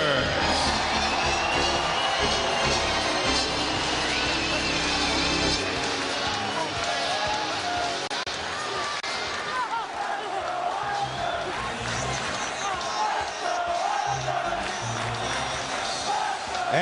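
A large arena crowd at a New York Islanders home opener against the Buffalo Sabres roars and cheers steadily with scattered whoops, while an announcer or commentator talks underneath.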